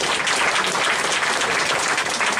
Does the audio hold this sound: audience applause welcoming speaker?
yes